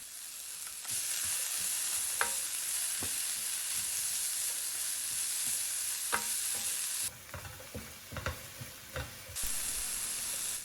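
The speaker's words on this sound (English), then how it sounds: "Add spices such as salt, pepper, and oregano and stir together." Salt, pepper and oregano are stirred in a sizzling frying pan, with a steady close hiss of frying broken by scattered scrapes and taps of the utensil.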